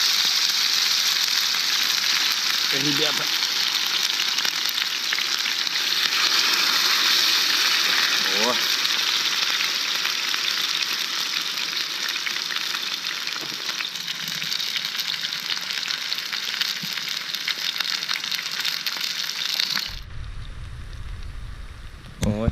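Chicken breast with cheese sizzles loudly and steadily in a hot frying pan on a wood-fired stove at a taiga bushcraft camp, a continuous crackling hiss with occasional pops that cuts off near the end.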